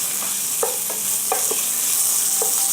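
Ground pork frying with garlic in hot vegetable oil, a steady close sizzle with a few light scrapes of stirring on top.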